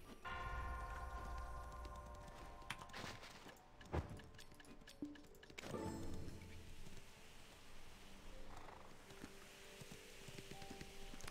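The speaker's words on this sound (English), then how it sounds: "Oh yeah, all these bells going off." Christmas bells ring in the Black Desert Online video game, overlapping tonal chimes that sound repeatedly at a moderate distance, with a soft rain-like hiss and occasional sharp clicks underneath and no voices.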